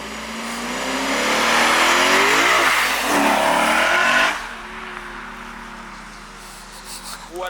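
A Lexus RC F V8 engine revs hard and loud, rising and falling, then drops back to a rumbling idle with a few blips.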